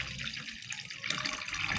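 Lemon liquid, made from boiled water and two lemons, pours and trickles through a straining cloth into a basin, a steady watery splash running throughout with no talking.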